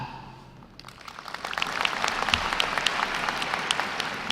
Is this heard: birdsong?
no